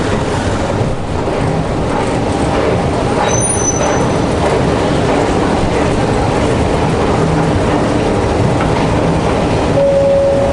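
Ride aboard an Istanbul metro train near Taksim Square, with a steady, loud rumble of wheels and carriage throughout and a faint brief squeal partway through.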